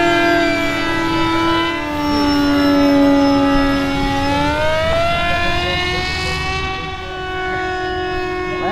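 An RC Flying Witch Alba model plane makes a low pass, its steady, loud engine whine dropping in pitch as it sweeps by close overhead. No one talks over it.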